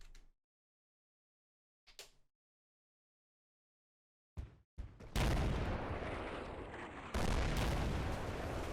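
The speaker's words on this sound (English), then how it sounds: "Should be the mortar I've ordered 2 rounds ago coming down on this guy." In the video game Combat Mission: Black Sea, mortar rounds land: a few faint isolated pops, then a heavy explosion breaks into a long, loud roaring rumble with a second blast renewing it.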